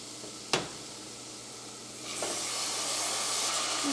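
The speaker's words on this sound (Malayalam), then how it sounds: "നമുക്ക് നമ്മുടെ മസാലകളെല്ലാം എണ്ണയിൽ കിടന്ന് നന്നായിട്ട് മുരിഞ്ഞിട്ടുണ്ട്. നമുക്ക് ഇതിലേക്ക് തക്കാളി ചേർക്കാം." Masala and tomato frying in hot oil in a pan for a Kerala egg curry, a soft continuous sizzle with a sharp hiss burst early on and a louder, fuller sizzle building in the second half.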